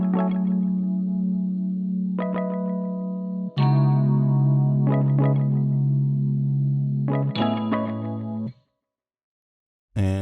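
A melodic guitar line drenched in chorus and distortion effects plays over a G-funk beat, with sustained tones and chord changes ringing in phrases for about eight seconds before a brief silence.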